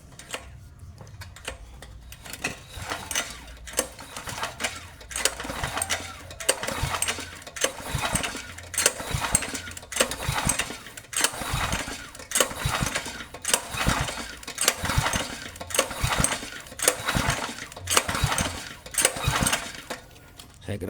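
A small petrol drive engine, switched off with its fuel tap open, has its starter cord yanked over and over, giving a steady series of close, rasping whirs roughly once a second with no talking.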